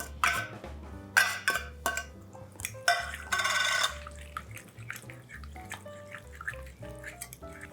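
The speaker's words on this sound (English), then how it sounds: "I rinse them with a little bit of water in here" Capers are rinsed with a little water in a kitchen: splashing and running water come in uneven bursts with a longer gush, then lighter drips and small clinks of a container, close and moderately loud, no voice.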